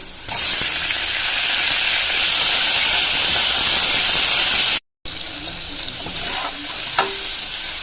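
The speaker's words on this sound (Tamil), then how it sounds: "வெங்காயம் கருவா கருவேப்பிலை போட்டு வதக்கிக்கலாம்" Onions, cinnamon, curry leaves and tomato frying in a pan for green peas kurma, a loud steady sizzle that cuts out briefly and resumes with faint stirring clinks.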